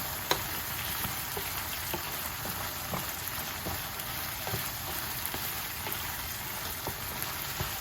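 Garlic and onions sauté in a pan, with a steady, close frying sizzle running throughout and occasional soft clicks as they are stirred.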